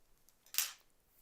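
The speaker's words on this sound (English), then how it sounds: "let's snip this." A single quick snip of small scissors cutting embroidery thread, close and crisp against an otherwise quiet background.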